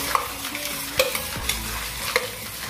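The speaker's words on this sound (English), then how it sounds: "whisk it again until the vanilla extract is completely mixed into the egg and sugar mixture" A whisk stirs vanilla extract into an egg and sugar mixture in a bowl, giving a steady wet swishing broken by light clicks of the whisk against the bowl, with no one speaking.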